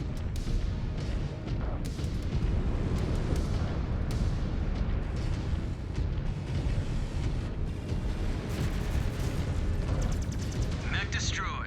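Explosion of a destroyed mech in MechWarrior 5 Clans, heavy blasts and crackling impacts rolling continuously through a loud battle soundscape with steady low rumble throughout.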